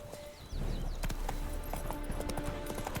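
Horse hooves galloping in The Witcher game, a steady rapid clip-clop beating close by under game music and effects, starting abruptly after a quiet opening.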